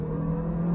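The engine of a 2008 Honda Civic with a manual gearbox hums steadily and loudly under load for a brief moment, heard from inside the car.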